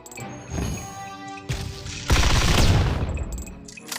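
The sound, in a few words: shooting in the video game Summoners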